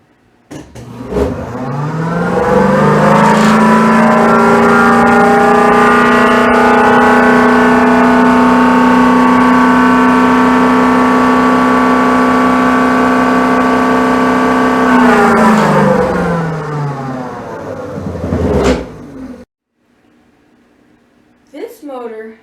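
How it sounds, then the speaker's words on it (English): A twin-rotor magnet motor running on a 12-volt battery spins up to a steady, loud humming whine with layered tones, holds for about fifteen seconds, then winds down and stops, followed by a few faint clicks. "We will turn on the motor and watch the voltmeter."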